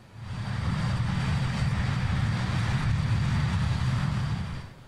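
Airliner engines in Microsoft Flight Simulator, a Just Flight BAe 146, throttling up during a climb past 10,000 feet: a steady, deep, loud roar with a constant drone that swells in and fades out at the edges.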